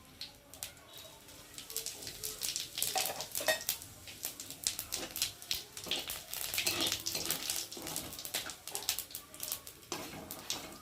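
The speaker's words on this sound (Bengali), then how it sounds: "এবার দিয়ে দেবো গোটা জিরে" Whole cumin seeds crackle in hot oil with dried red chillies, a faint, uneven sizzle that runs through the whole stretch, broken by clinks of a spoon stirring the pan.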